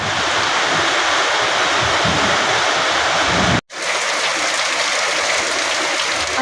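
Heavy evening rain pours outdoors as a thick, even hiss, cut off for a split second partway through before resuming just as strongly.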